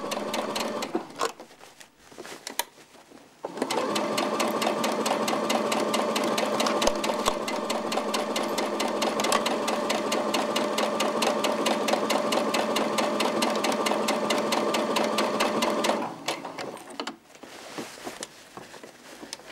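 A Simplicity sewing machine stitches steadily for about twelve seconds with a fast, even mechanical chatter. Short handling noises come just before it starts and just after it stops.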